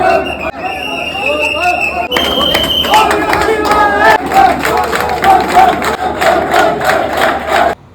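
A dense crowd of kanwar pilgrims at a temple makes loud, continuous hubbub with shouting and chanting voices, rising and falling in bursts close to the listener.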